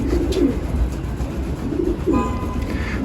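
Soft pigeon cooing from a loft at night repeats in low murmurs against a steady hum, with a few faint rustles and chirps.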